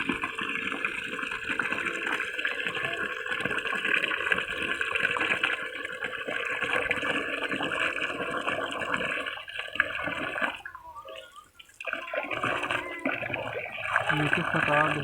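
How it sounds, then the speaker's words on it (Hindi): Water pours from a homemade water pump into a container, a continuous gushing stream close by with a short interruption midway, as a person talks over it. "देखते हैं कितना देर में पानी भरता है इसको।"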